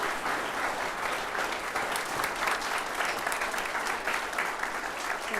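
An audience applauds mayors at a city state-of-the-city event, sustained dense clapping from a sizable crowd, steady and fairly close throughout.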